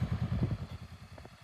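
A motorcycle engine runs at low revs as a learner rider eases the clutch out and gives a little throttle. A rapid, even, thumping pulse sits close and fairly loud, then softens slightly near the end.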